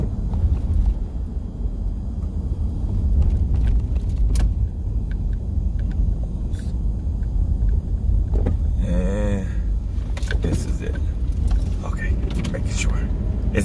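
A car drives through the Bahraini desert with a continuous loud low engine and road rumble, heard from inside, with a brief voice partway through.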